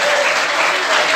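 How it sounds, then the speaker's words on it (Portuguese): A church congregation breaks into dense, sustained applause during a sermon, a loud, steady wash of many hands clapping with no talk on top. "Você pode dar glória a Deus e aplaudir o Senhor por isso, aleluia."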